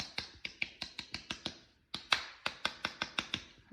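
A hammer taps putty back into a can for a homemade smoke grenade with sharp, evenly spaced light knocks. There are about two dozen taps in two quick runs, separated by a brief pause.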